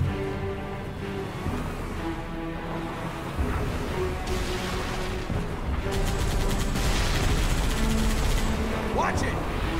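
Warthog turret gunfire in Halo 3 on Legendary, a steady stream of rapid shots over dense game music and battle noise, with voices talking throughout.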